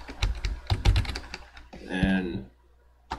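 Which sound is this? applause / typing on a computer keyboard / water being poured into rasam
typing on a computer keyboard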